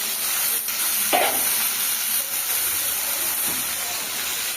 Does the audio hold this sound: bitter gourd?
yes